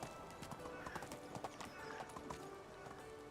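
Horse hooves clip-clopping steadily in the farming game Medieval Dynasty, a close, rhythmic run of hoofbeats with a faint whinny, playing alone at moderate level.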